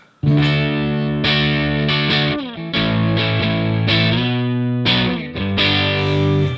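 Electric guitar through an Overloud JTM 45 amp simulation, crunchy overdriven chords struck in several loud bursts with brief gaps between them, played alone.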